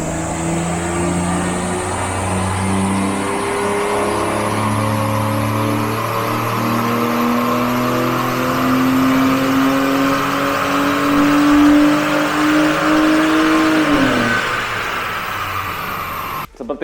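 A tuned 2004 BMW 330Ci E46 on a dyno revs steadily upward through a long, loud pull, engine note climbing for about fourteen seconds before cutting off abruptly.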